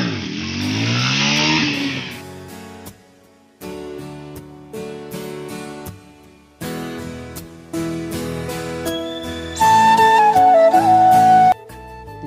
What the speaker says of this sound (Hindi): व्हीले तो काफी अच्छी बजी